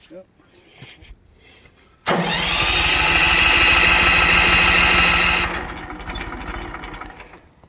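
A new sawmill's gas engine cranks and fires up abruptly, roaring loudly for a few seconds before dying back down; brief talk and handling noises come before and after.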